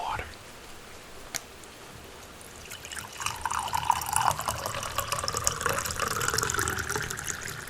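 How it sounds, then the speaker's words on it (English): Water is poured into a cup for a single cup of tea, a rising trickling fill that grows louder over a few seconds after a quiet start. "So let's pour this water."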